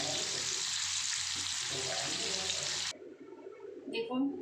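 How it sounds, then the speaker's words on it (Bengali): Katla fish pieces marinated in salt and turmeric fry in oil over a full flame. A loud, dense sizzle cuts off abruptly partway through, leaving quieter kitchen sounds. "তাই ফুল স্টিমেই আমি মাছগুলো ভেজে নেবো"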